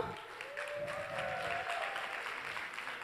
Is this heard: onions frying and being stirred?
no